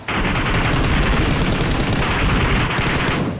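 Rapid gunfire from the battle royale game BGMI crackles in a dense, loud burst of overlapping shots that runs for a few seconds with no pauses or voices.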